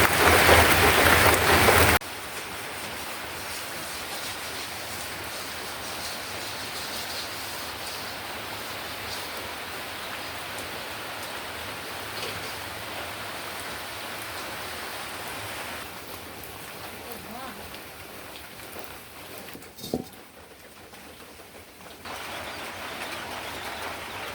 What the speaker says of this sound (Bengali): বৃষ্টি শুরু হয়ে গেছে ওই দিন রোদ ছিল আজকে আবার বৃষ্টি শুরু হয়েছে